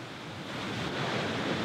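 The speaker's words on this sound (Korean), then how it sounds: "폭포가 길가에 위치해 있어 아주 가까운 곳에서 폭포를 볼 수 있다." Roadside waterfall in Norway heard from close range as a steady, loud broadband roar of falling water, unbroken and alone.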